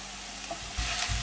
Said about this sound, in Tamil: அப்புறம் இந்த உருளைக்கிழங்கையும் இதில் போட்டுடலாம்.